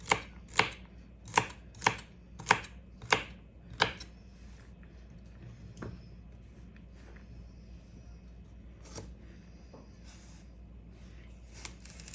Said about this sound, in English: And I usually split my celery so the pieces aren't so huge.